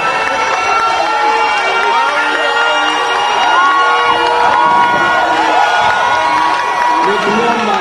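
Crowd cheering with shouts and whoops at a college cultural day celebration, a dense continuous roar of voices with scattered whistles and cries, loud and close throughout.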